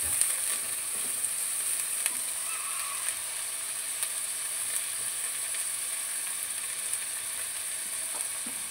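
Ginger and garlic paste fry in a pan for morog polao, a steady, gentle sizzle with faint scattered crackles and light clicks running on without a break and no talking.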